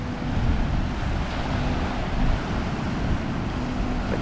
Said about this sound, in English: The ever-present easterly breeze on this southern stretch of coast